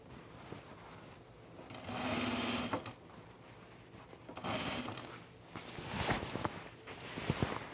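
A sewing machine runs in steady bursts while stitching a hem on an Ellsworth garment, its rapid mechanical whir rising and pausing up close, with no talking.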